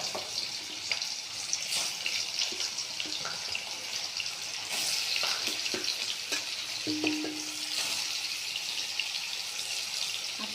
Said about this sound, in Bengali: তেলটা গরম হয়ে গেছে, পনিরগুলো আস্তে আস্তে ভাজায় দিয়ে দেবো, অল্প লাল করে ভাজবো।